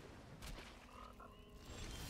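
Game sound for a Psychic Frog card in a digital card game, a faint burbling croak with a short warbling tone and a rising hiss at the end, low in level and without talk.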